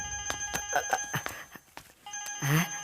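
A trilling electronic phone ring in a comedy film sounds in short repeated bursts, fairly close, with brief voices and background noise between the rings.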